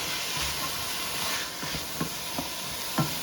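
Chicken soup ingredients, onion and bay leaf, sizzling and steaming in a pot, a steady soft hiss with a few faint taps and stirs near the end.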